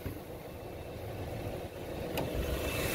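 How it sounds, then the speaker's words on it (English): A 2016 Subaru Forester's 2.5-litre boxer engine idles quietly with a smooth, steady low hum that rises slightly toward the end. A single sharp click is heard partway through. "So here's that famous boxer engine. It's nice and quiet."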